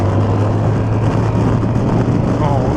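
A restricted A2-licence Yamaha R7 motorcycle engine accelerating as the throttle opens, a steady loud droning rumble with a strong low hum, continuous and close throughout.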